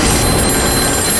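Telephone bell ringing loudly and continuously in a brief, dense burst close by, in a dramatized horror scene, with no talking.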